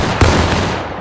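A black-powder musket fires once at a Civil War reenactment of the 42nd Pennsylvania Volunteer Infantry, a single loud close blast with a short rumbling tail.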